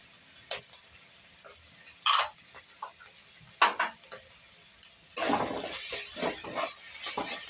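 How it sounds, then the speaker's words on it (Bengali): Chopped banana flower mixture with crushed peanuts sautéed in a pan: scattered spoon scrapes and clinks over a faint sizzle, then a louder, denser hiss and stirring toward the end, close and without talking. "এটা ভালো করে কষিয়ে নিতে হবে"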